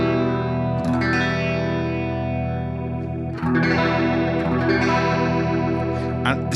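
A strummed guitar chord rings through a BOSS GT-1000 rotary effect, its swirling modulation slowing from fast to slow, then a second strum rings on, loud and sustained.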